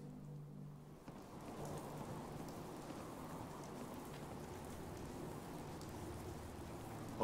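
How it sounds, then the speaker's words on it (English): Steady rain pours down in the Fallout 4 VR video game, a dense continuous hiss of falling water with a low rumble beneath, holding at an even level and heard alone without any talk. "Hope this rain lets up soon."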